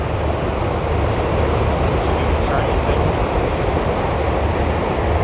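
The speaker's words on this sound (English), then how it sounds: "Beautiful river coming through here." A river rushes beneath a bridge at a KOA campground in Lava Hot Springs, Idaho, a loud, steady broadband roar of flowing water that stays constant throughout with no talk.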